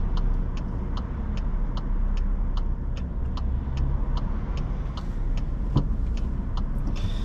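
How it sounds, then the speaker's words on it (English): Road traffic rumbles steadily around a car driving a test route in Goodmayes, with continuous engine and tyre noise heard from inside and a turn indicator ticking in an even rhythm throughout. "there's a bit of traffic"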